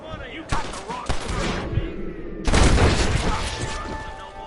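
Gunfire in Red Dead Redemption: sharp shots ring out around 0.5 and 1.1 seconds, then a heavier, denser burst of firing from about 2.5 seconds that trails off under a sustained background.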